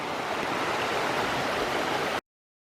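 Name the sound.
Thornton River flowing nearby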